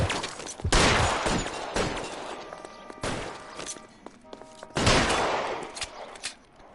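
Gunfire in L.A. Noire bursts out in several loud, sharp volleys of shots with short pauses between them, close by and with no talking over it.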